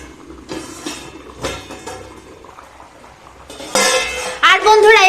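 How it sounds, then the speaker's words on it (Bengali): A lid comes off a pot of village-style jackfruit curry with kalai dal, heard as a few soft clinks and knocks of metal, then a bright scrape and clatter near the end as it lifts away. "এখন আমরা ঢাকনাটা খুলে নেব"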